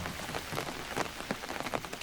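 Steady rain patters and drips in the open forest of Ranthambore, with scattered louder drops over a constant wash of falling water; no voices.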